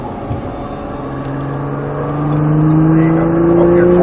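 A Nissan Skyline GTR accelerates on a track, its engine note climbing in a steady rising whine and growl, loud and close from inside the car with no talk.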